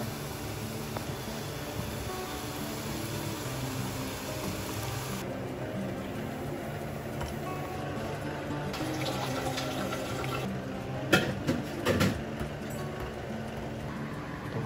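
Water runs steadily from a tap, a continuous hiss of filling, with a few clinks and bumps near the end.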